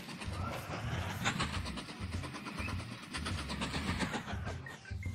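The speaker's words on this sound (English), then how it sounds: "Hey there, where you going, train?" Train running in the transport strategy game Mashinky, a steady rolling rumble with rhythmic clickety-clack pulses from the wheels, fairly faint, continuous and without speech.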